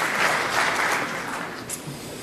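An audience at a corporate launch event in a large hall gives a short round of steady applause, moderately loud and sustained, without speech over it.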